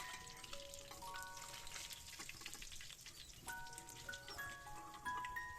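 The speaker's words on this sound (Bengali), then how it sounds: "এই যে দেখুন আমাদের মাছ ভাজা প্রায় শেষের দিকে।" Fish frying in oil in a home kitchen, a soft continuous sizzle and crackle with scattered pops and light clinks, faint and close.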